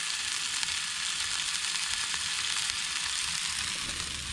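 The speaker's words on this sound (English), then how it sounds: "So we've got the burgers on." Burgers fry outdoors on an afternoon sea-fishing trip, giving a steady, dense sizzle that stays loud and even throughout, with no talking.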